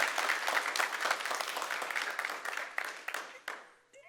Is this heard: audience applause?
yes